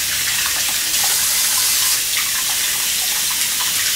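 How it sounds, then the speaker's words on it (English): Warm water runs steadily from a tap into a sink for rubber boot cleaning, a close, continuous splashing gush with no voices. "So I'm going to get the warm water running now"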